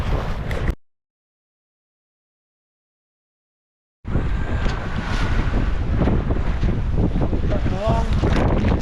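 A boat motors through choppy sea, its nose frequently burying into waves, with steady wind and splashing spray. It starts briefly, cuts to silence for a few seconds, then returns loud and constant.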